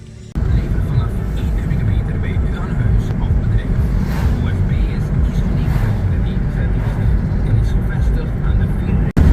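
A car engine idles steadily, started and ready to leave at Jungle Camp Carolina in Suriname, a loud continuous rumble filling the whole stretch with faint talk mixed in.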